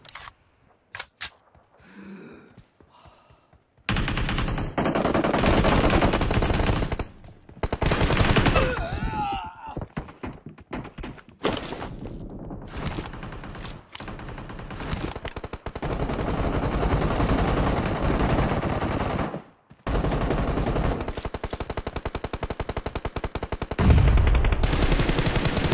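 Dense, loud bursts of automatic weapon fire and single shots come from a Battlegrounds Mobile India team deathmatch. The firing is nearly continuous, with brief gaps and reload clicks between bursts.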